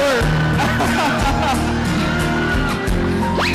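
A loud crowd at a shopping mall yelling and cheering continuously, many voices shouting together with music-like tones underneath, dense and close throughout.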